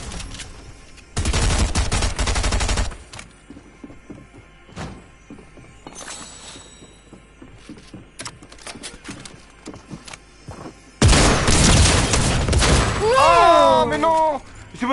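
Bursts of rapid gunfire with blank bullets in a shooting video game come in two loud volleys separated by scattered single shots and thuds, with a raised voice heard near the end.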